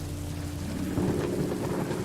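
Steady rain hisses on surfaces while a low rumble of thunder rolls underneath, swelling briefly near the middle, a continuous stormy ambience with no speech.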